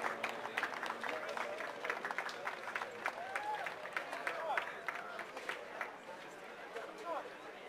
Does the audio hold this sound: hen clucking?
no